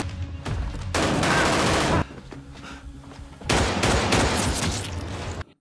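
Two sustained bursts of heavy automatic gunfire, loud and dense, separated by a brief lull with fainter shots.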